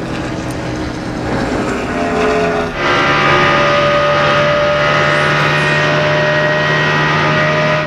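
A NASCAR stock car driven by Ryan Newman roars down the backstretch at the 2002 Pennsylvania 500 at around 10,000 RPM, a steady loud engine drone mixed with broadband track noise that swells partway through.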